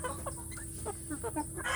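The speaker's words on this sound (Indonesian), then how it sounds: "ayam kampung saya ini, anak ayam kampung saya ini yang betina-betina ini" Young free-range village hens cluck softly in a yard, several short, faint calls scattered over a low background hum.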